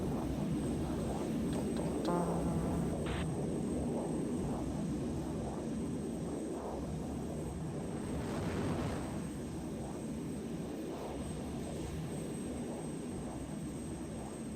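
Fixed-wing aircraft coming in to land in the military game ArmA, a steady loud engine drone filling the whole stretch with a brief swell partway through, no talking.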